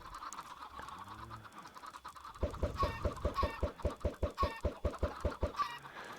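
Chickens cluck in a Minecraft world, a rapid run of close, loud, evenly spaced clucks that starts partway through after quieter ambient noise and lower bird calls.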